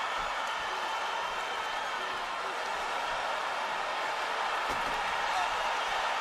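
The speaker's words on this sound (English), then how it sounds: "Listen to this crowd." Dense, steady roar of a large arena crowd at an MMA fight between Anderson Silva and Chris Weidman, a constant wash of massed voices with no single shout standing out.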